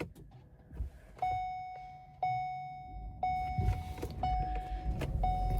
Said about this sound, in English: I guess I could start the car.